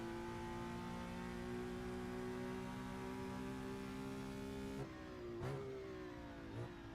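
A Porsche race car engine in a racing game at Spielberg, a steady droning hum with a slight rise, then a couple of short whooshing shifts as the car passes, moderately loud and with no talk.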